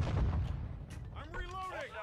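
A heavy low boom from RPG explosions in a military shooter video game opens the moment, followed by a rumbling tail as a voice talks over it.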